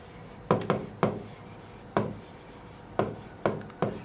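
Pen strokes on a digital board while solving a Class 9 maths linear-equation problem, a series of short scratchy marks coming in irregular bursts, close and clear in a quiet room.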